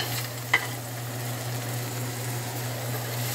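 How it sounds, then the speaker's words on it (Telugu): Onion frying in a pan for egg masala curry gives a soft, steady sizzle with a low hum underneath and one faint clink near the start. "ఈ ఆనియన్ మొత్తం ఫ్రై చేస్తాం"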